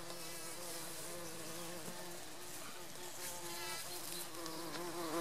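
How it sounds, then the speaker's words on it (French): Bumblebees and honeybees buzzing steadily in a spring garden in Greece, a dense continuous insect drone with several overlapping wingbeats, fairly close and even in loudness throughout. "Ah, ça grouille de bourdons."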